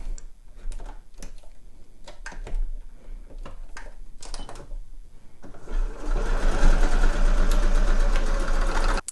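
Sewing machine stitching a seam on a knitted ear warmer, its motor running in a steady rapid chatter that grows louder and denser halfway through, with softer ticks and handling noise before it.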